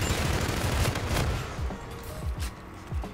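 Rapid bursts of automatic gunfire from a Karma-45 in a shooter video game, loud and close, with dense overlapping shots that thin into a few separate bangs toward the end.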